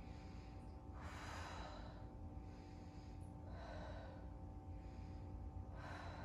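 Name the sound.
deep breathing during yoga boat pose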